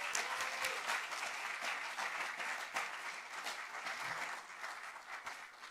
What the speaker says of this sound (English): one last round of applause for Candela